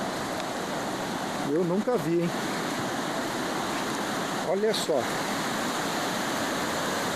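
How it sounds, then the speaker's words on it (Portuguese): Rain-swollen water pours over a reservoir dam spillway in a steady, broad rushing roar, while someone speaks briefly twice over the constant flow. "Como é que está a caída d'água aqui da nossa represa."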